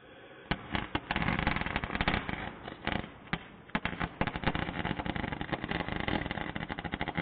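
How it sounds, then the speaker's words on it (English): Welding on the metal pieces of a C-frame guillotine tool, a dense crackling arc with rapid popping bursts that runs almost continuously, briefly easing midway before resuming loudly. "tack those in on the sides, make sure they're good and square, and we'll weld it up"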